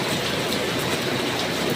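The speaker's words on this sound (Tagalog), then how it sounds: "Kaya ang lakas ng ulan." Heavy morning rain falls as a dense, steady hiss that fills the whole clip with no pauses, loud and broadband, with no voices.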